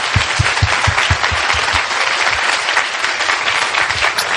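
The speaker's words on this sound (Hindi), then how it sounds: "आइए हम अपने लीडर्स के लिए अच्छी ताली बजाएंगे।" A church audience claps loudly for its leaders, a dense, sustained burst of applause with a few distinct nearby claps at the start, continuing without letup.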